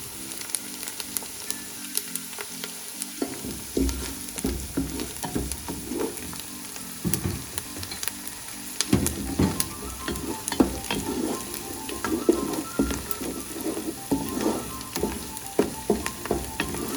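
Onions softening in hot oil in a pan for Punjabi mustard greens, a steady close sizzle and crackle running throughout with occasional stirring scrapes.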